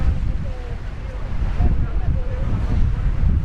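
Wind buffets the microphone over a low roar of ocean surf at Sambo Creek, steady and close, with a faint voice underneath.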